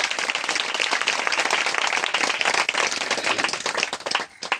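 A church congregation claps together to welcome newcomers, steady, dense applause filling the whole stretch at close range before thinning out right at the end.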